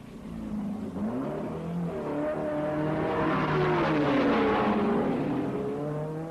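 A Triumph race car at the 1961 Le Mans 24 Hours roars past, its engine note rising and sweeping in pitch as it approaches and passes, loud and alone.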